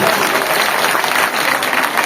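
A crowd at a village Ramlila performance breaks into loud, sustained applause, dense steady clapping filling the whole moment.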